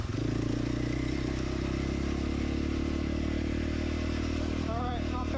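A Husqvarna FX450 dirt bike churns through about a foot and a half of slush, its engine holding a loud, steady drone with a brief rev toward the end while a rider talks over it.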